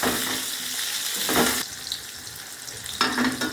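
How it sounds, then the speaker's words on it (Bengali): Square-cut onions fry with potatoes in hot oil, a close sizzle that swells in short bursts as the pan is stirred. "চৌকো করে কেটে রাখা পেঁয়াজগুলো এর মধ্যে দিয়ে দেব, দিয়ে আর একটু ভাজা ভাজা করব"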